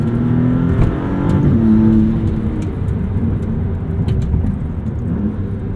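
A 2023 Maserati MC20 engine rumbles at low revs with a gentle rise and fall, accompanied by faint whirring and whooshing turbo sounds, close and steady.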